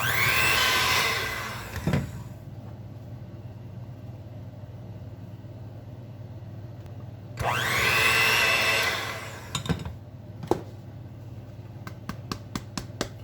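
An electric mixer whirs through icing as powdered sugar is added a little at a time, two loud motor bursts separated by quiet pauses, with clinks and taps of the bowl between them.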